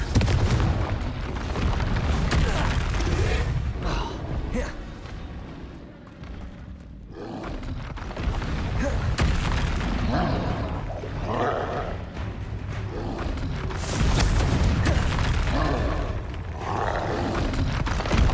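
Confringo fire spells exploding in the video game Hogwarts Legacy, a dense, loud wall of booming blasts and roaring rumble that carries on almost without a break, dipping briefly before surging again.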